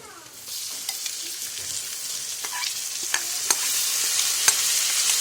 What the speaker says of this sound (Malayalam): എന്നിട്ടിത് നന്നായിട്ടൊന്ന് മിക്സ് ചെയ്ത് ഒരു അഞ്ച് മിനിറ്റ് നമുക്ക് നന്നായിട്ടൊന്ന് ഇളക്കി കൊടുത്ത് നന്നായിട്ടൊന്ന് വേവിച്ചെടുക്കണം